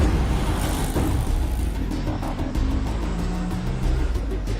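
An auto-rickshaw engine rumbles and revs steadily as the vehicle turns around and pulls away, a close, continuous motor drone with road noise.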